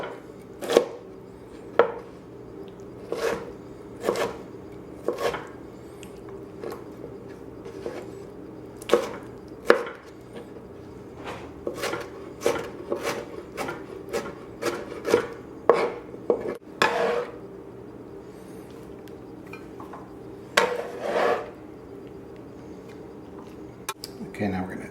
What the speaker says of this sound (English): And then we'll cut. And we'll just chop this up too.